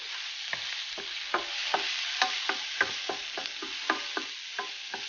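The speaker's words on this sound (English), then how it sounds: "Add the pepper. Continue sauteing." Peppers, mushrooms and onions sauté in a pan, a soft continuous sizzle punctuated by a regular run of sharp utensil taps and scrapes as they are stirred, with no voices.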